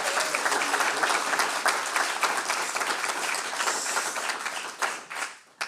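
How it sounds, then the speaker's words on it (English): An audience at a talk on domestic workers' organising gives steady applause, a dense wash of many hands clapping that holds evenly before tapering off and stopping near the end. "So maybe we should give you a small applause"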